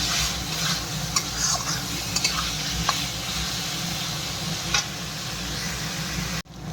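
Fried potatoes sizzle steadily in a pan while boiled chickpeas cooked with salt and turmeric are added, with occasional light utensil clinks over the constant frying hiss, cutting off sharply near the end.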